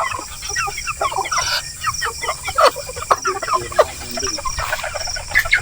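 Native chickens cluck busily on a farm alongside Muscovy ducks and guinea fowl, a dense, close chorus of overlapping clucks and squawks with occasional sharper calls.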